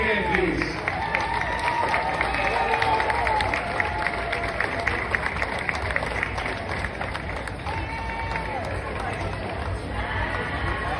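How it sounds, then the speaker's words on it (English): Spectators at the Pickleball World Cup 2025 medal ceremony in Fort Lauderdale applaud Team USA, a dense, loud wash of clapping and crowd noise, with cheering voices and chatter mixed in throughout. "a round of applause for Team USA once again, please"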